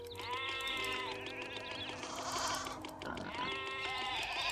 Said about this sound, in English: the sheep are moving all the way up here